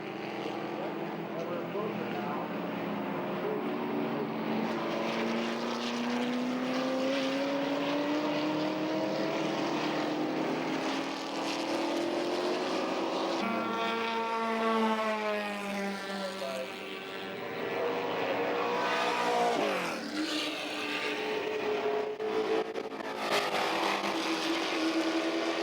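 Ford GT40 race car on a track, its engine revving through rising and falling gear pitches as it passes, heard moderately loud and slightly distant beneath a narrator's voice.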